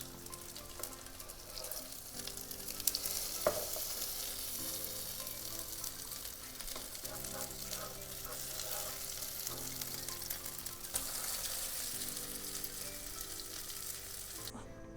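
Soya chunk sheekh kebabs fry in a pan with a steady, close hiss and crackle, and a few soft bumps and scrapes from turning them break through the continuous sizzle.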